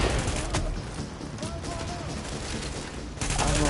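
Gunfire in The Division at a napalm production site, rapid bursts of shots and crackling fusillades throughout, with a sharp crack early and a heavier volley near the end, under players talking.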